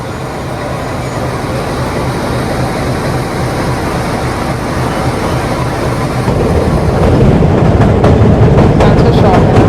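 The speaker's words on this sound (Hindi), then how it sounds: "एक आखिरी बार ट्रेन को झंडी दिखाते हुए एक हुंकार के साथ अब अपने सफ़र में ट्रेन बढ़ने वाली है" A metre gauge train on the Omkareshwar to Dr Ambedkar Nagar line pulls away, with a steady loud rumble and clatter that builds as it departs.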